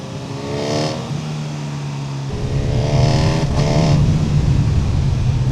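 A Honda CB1000 Hornet SP naked motorcycle engine is heard on the move in cold, wet weather. The loud, steady drone rises and falls through gear changes at low revs, with a higher-pitched surge as it pulls again.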